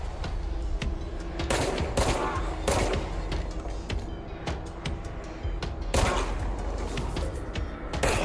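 Gunfire in the video game Control, with sustained automatic bursts and repeated loud shots close by during a boss fight, firing in uneven volleys with a faint voice underneath.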